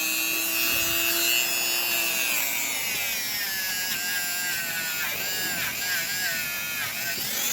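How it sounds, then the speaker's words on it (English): A Dremel rotary tool polishing a metal part from a 1940s–1950s GG Berg count wheel cuckoo clock, a high whining buzz that wavers in pitch as it bites and rubs against the piece, close and steady, with no speech. "But you keep using your Dremel, and eventually it's going to polish it up to a bright shine."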